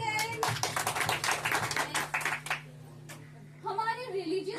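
Students at a cultural training gathering in Udaipur clap their hands for a couple of seconds, loud and close over a low electrical hum. A short pause follows, then a voice speaks.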